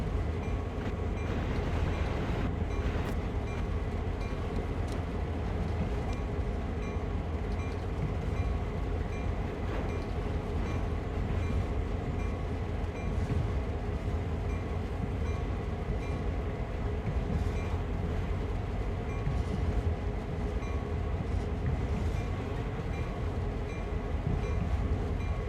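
Train in the Train Sim World game running slowly on the Peninsular Corridor at about 20 mph: a steady, continuous rumble of wheels and rail noise that holds at an even level throughout, with no talking.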